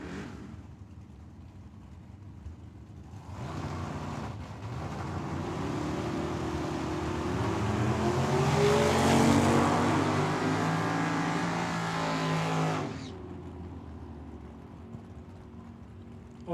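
Drag race cars, a Chevelle and a Vega, launch at Tucson Dragway: engines swell into a loud, roaring run for about ten seconds, then fade away into the distance.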